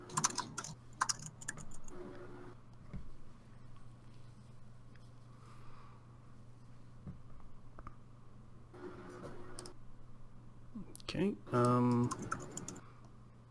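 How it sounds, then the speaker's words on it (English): Continuous clicking of fingers typing on a computer keyboard during a podcast recording, the soft taps running steadily under occasional talking and brief louder bumps near the end. "He's typing. He's typing."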